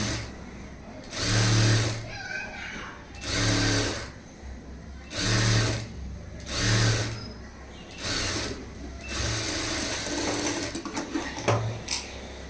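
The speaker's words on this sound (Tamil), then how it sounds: "அடுத்து நம்ம பாட்டம் ஃபோல்டையும் மடிச்சு தைச்சிடலாம்" A sewing machine stitches the folded-over bottom hem of a high neck blouse in short close bursts of rapid whirring, about seven runs separated by brief pauses with light fabric handling.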